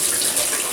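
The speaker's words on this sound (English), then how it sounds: "We'll just wash our spoon up." A kitchen tap runs while a spoon is rinsed under it, giving a brief, steady, close splashing hiss of flowing water throughout.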